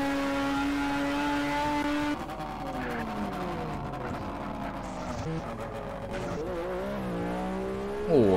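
Engine of a low-slung car in GTA San Andreas revs and shifts through gears, with rising and falling tones and a brief tire squeal, steady and fairly loud throughout.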